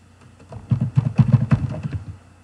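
Computer keyboard keys tapped in a short irregular burst of soft clicks, close and fairly quiet, with no talking.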